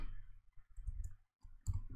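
A computer mouse clicks while setting up MicroPython for a Raspberry Pi Pico: soft, brief, close clicks over low, quiet room noise.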